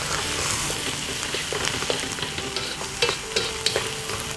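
Fried rice ingredients with Chinese sausage and egg are stirred in a hot pan, sizzling steadily close by while a utensil scrapes and taps now and then, growing a bit busier toward the end, with no voices.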